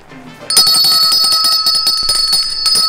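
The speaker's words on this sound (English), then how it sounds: "My bell got stuck." A bell starts ringing suddenly, loud and close, and keeps going without stopping as if stuck, a bright sustained metallic ringing with quick repeated strikes and no voices.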